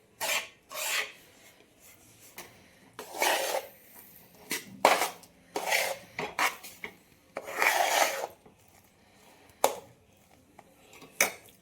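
Mithai mixture with milk being stirred in a pan with the gas off, producing rasping scrapes and rubs of the spoon in irregular bursts, close and fairly quiet.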